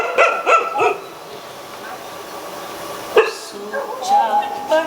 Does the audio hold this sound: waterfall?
no